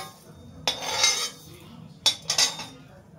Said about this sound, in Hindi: अब इसको हम एक प्लेट में निकाल लेते हैं पहले, और इसको ठंडा होने के लिए रख देंगे